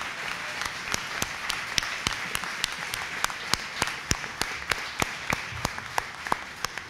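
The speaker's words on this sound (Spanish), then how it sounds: "para quien pido un aplauso" An audience at a book presentation applauds with a steady run of distinct, fairly evenly spaced claps, moderately loud over a soft room background with no talk.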